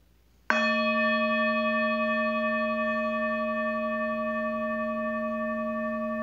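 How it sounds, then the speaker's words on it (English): A meditation bell is struck once after a moment of quiet, giving a clear sharp strike followed by a long sustained ringing tone that slowly fades, with no voices. "So with that being said, I'll sound the bell."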